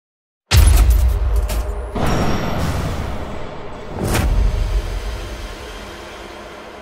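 The V12 of a Lamborghini Aventador LP780-4 Ultimae starts with a sudden loud blast, then a sustained roar that swells again in a couple of strong surges before easing to a steady, powerful drone.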